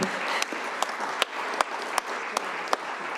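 Audience applause at a Montana constitutional convention anniversary event, a steady wash of many hands clapping with a few sharper individual claps standing out, sustained throughout without speech.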